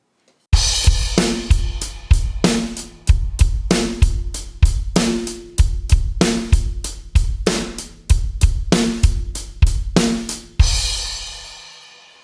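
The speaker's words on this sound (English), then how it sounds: "but now we add a kick on the and of 3." Loud, close rock drum beat on a full kit: steady hi-hat, snare backbeats and kick drums including an added kick on the and of three, looping evenly for several bars and closing on a sustained crash.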